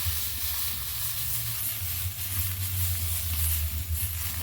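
Mashed banana stem fries in oil in a wok, giving a steady loud hissing sizzle with a low rumbling undertone, continuous and close, with no voices.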